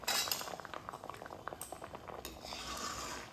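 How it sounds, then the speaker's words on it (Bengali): Green mangoes simmering in a pot of water, a steady bubbling boil with occasional clinks of a utensil against the pot, close and fairly quiet, with no talking. "এমনভাবে সেদ্ধ করতে হবে যাতে আমগুলো গলেও না যায়, আবার আমগুলো খুব একটা গোটাও যেন না থাকে"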